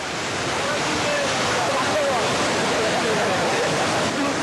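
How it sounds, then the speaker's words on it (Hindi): Strong floodwater rushes through a flooded village in West Bengal during heavy rain. A loud, steady roar of flowing water fills the whole stretch, and a faint voice sits beneath it. "पानी का तेज प्रवाह नजर आ रहा है"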